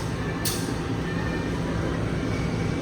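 A parcel train rolls past on Indonesian rails, a steady low rumble and clatter holding throughout with a brief hiss or squeal near the start, close and continuous.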